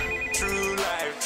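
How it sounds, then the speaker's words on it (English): A telephone rings late at night in a hip-hop track, its electronic ringtone trilling in bright repeated bursts over the beat, loud and close, with no voices. "The phone rings late at night."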